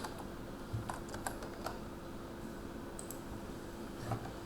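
Fingers tap at a computer keyboard in brief, quiet clusters of clicks against a soft background hiss.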